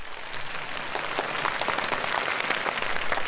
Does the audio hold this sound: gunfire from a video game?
no